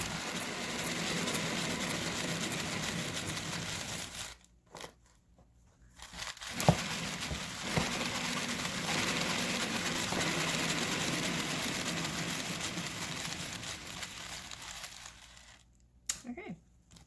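A paint spinner machine spins a canvas for a butterfly-inspired bloom pour. Its steady, whirring motor drone runs on, drops out briefly twice, then starts up again, with no talking over it.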